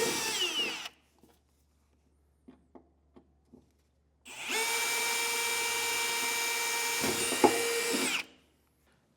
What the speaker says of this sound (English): we can drill right down.